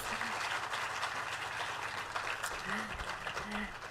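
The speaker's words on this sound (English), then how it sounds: "Can we please give him another round of applause?" Broad, continuous clapping from a crowd at a national youth budget event, steady and moderately loud, with a voice briefly audible over it.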